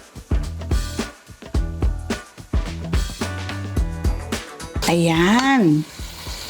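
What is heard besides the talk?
sautéing chorizo, ginger, bay leaf and onions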